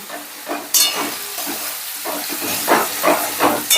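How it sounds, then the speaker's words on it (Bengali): Spices frying in a pan for moong dal with paneer, with cumin powder just added, being stirred: a steady close sizzle broken by repeated scraping strokes of a spoon against the pan. "মশলাটা একটু নাড়াচাড়া করে দিয়ে দিচ্ছি"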